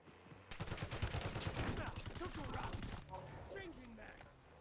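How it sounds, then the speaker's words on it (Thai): Rapid automatic gunfire in the Call of Duty Warzone video game, a dense burst of repeated shots for a few seconds that then thins to scattered echoes, fairly quiet overall. "เฮ้ยใครยิงวะ"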